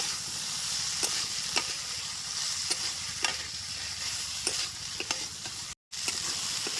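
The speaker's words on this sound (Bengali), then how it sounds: "পরিমাণ মতো হলুদ দিয়ে দিলাম এবারে ভালো মতো করে কষায় নেবো" Potato and vegetable stalks stir-frying with turmeric in a pan for a village-style fish stalk curry, a continuous loud sizzle punctuated by regular sharp scrapes of the spatula against the pan.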